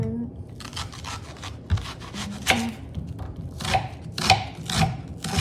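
An onion is chopped with a knife, a string of crisp, fairly close cuts that fall in an irregular rhythm and strike the board in short bursts.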